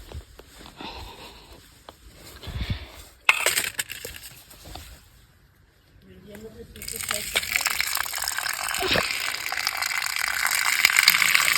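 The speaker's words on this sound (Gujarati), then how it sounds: "આપણે આને પાણીથી ધોઈ લઈએ" A food ingredient is rinsed with water, with splashing and handling early on, then a louder continuous gush of running water that builds toward the end, nearby and close.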